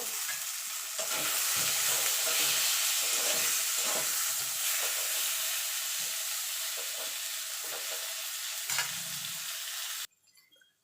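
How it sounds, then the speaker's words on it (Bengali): Eggplant slices fry with salt and turmeric in a pan, giving a loud, steady sizzle with crackling bursts for about ten seconds before it suddenly drops to near silence. "একটু নুন হলুদ দিয়ে আমি বেগুনগুলোকে ভেজে তুলে নেব"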